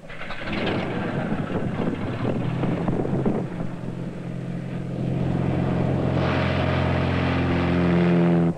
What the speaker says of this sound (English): we decided to extend the experiment to flying an airplane where visual coordination and depth perception are even more critical